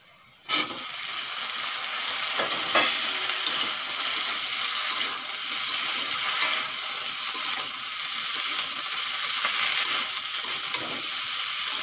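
Potatoes frying in a pan as pui (Malabar spinach) fruit is added, a steady close sizzle that starts abruptly, with scattered clicks and clatters through it and no talking.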